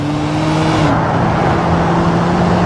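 Cars speed past on a road in a steady, loud rush of engine and tire noise lasting throughout, with a steady hum and a slight shift partway through.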